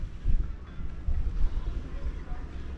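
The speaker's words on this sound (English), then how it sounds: "It's so windy as well, everything's shaking." Strong wind buffeting a high glass walkway, a loud low rumbling roar of gusts hitting the microphone in uneven surges.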